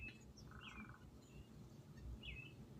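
Small birds chirp and tweet in short bright calls, a couple of distinct chirps standing out over a low rumbling outdoor background, fairly near but not loud.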